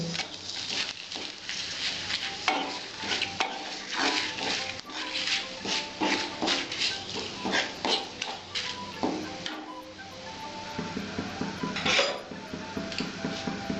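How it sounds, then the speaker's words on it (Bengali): Fennel seeds and a bay leaf fry in hot oil in a pan for Bengali bitter gourd and potato curry, with steady sizzling broken by repeated scraping and clinking of a utensil against the pan, close and continuous. "আমার মৌরিগুলো লাল লাল হয়ে আসছে, আমি এবার তেজপাতাটা দিয়ে দিচ্ছি।"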